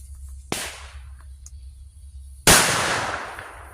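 A firecracker banger goes off outdoors: one sharp crack, then a second, much louder bang with a trailing rumble, set against quiet background noise.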